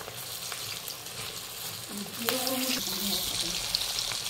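Food submerged in hot cooking oil sizzles and crackles steadily in a home kitchen, a continuous frying hiss that swells slightly louder partway through, with a brief voice speaking over it.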